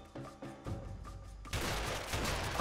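Shotgun blasts in the co-op video game A Way Out, a few sharp bursts at the start followed by a dense, loud wall of gunfire and booming impacts.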